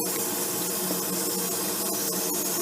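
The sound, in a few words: water spraying onto a puppy during a bath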